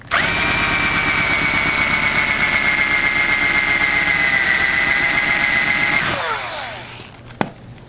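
A power drill with a paddle bit boring a hole in a MAME arcade cabinet, a steady loud whine held for about six seconds before it winds down and stops, followed by a single knock.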